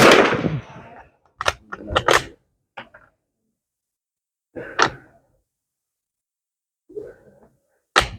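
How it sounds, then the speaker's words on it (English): A Polish WZ48 .22 caliber training rifle fires several sharp, loud single shots outdoors. The cracks are spaced irregularly over several seconds with quiet gaps between them, and some are followed by faint mechanical clicks. "I'll fire up just a couple and then let you go."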